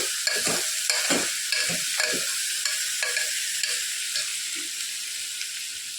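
Drumstick and brinjal pieces fry in hot oil for a tamarind curry, a steady bright sizzle running throughout with a spoon scraping and stirring in repeated strokes, close and fairly loud, no voices.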